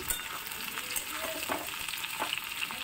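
Potatoes and garlic fry together in a pan with a soft, even crackling sizzle and faint stirring scrapes, steady and fairly quiet for the few seconds.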